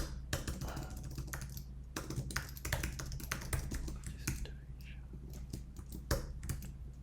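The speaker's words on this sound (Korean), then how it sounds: "키보드가 튀네요." Rapid, uneven keyboard typing, close up, with clustered key clicks and short pauses over a low steady hum.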